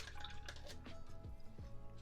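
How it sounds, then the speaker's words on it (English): A paintbrush swished and rinsed in a water pot while painting a miniature, giving soft close drips, splashes and clinks over about two seconds, with no talking. "Then we wash the brush,"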